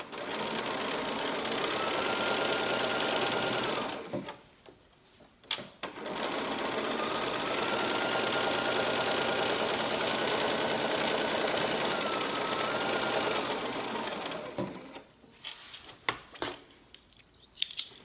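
A sewing machine stitches a quilt block in long, steady whirring runs, stopping briefly around the middle and again near the end with small clicks and handling sounds.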